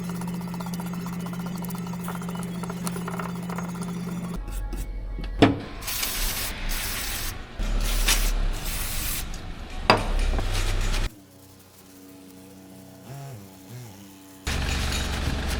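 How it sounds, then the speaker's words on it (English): Brake parts on a 2.0 HDI Citroen Xsara Picasso being brushed and sprayed with brake cleaner, close bursts of aerosol hiss alternating with scrubbing and a low hum, ending in a quieter stretch before the spraying resumes. "Time for brushing and cleaning with brake cleaner."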